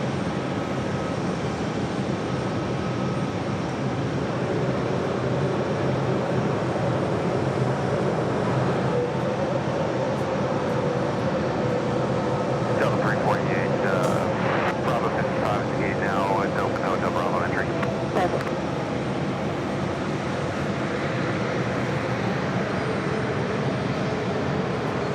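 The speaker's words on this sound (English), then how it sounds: "JetBlue Airways Flight 2602, E190 heading to Buffalo, New York" A JetBlue Airways Embraer E190 jet departs JFK bound for Buffalo, its steady engine roar filling the background throughout at moderate distance, with faint chatter from bystanders.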